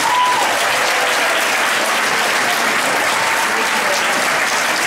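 A town hall meeting audience breaks into loud, sustained applause and cheering, dense and continuous throughout without any letup.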